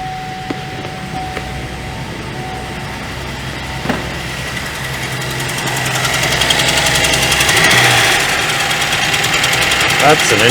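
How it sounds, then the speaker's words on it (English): Misfiring V6 engine of a 2012 Chevrolet Traverse running close by, a steady rough drone with uneven knocks and clicks that grows louder and busier midway through. "I'm going to go ahead and start the engine and see if we hear the zapping sound."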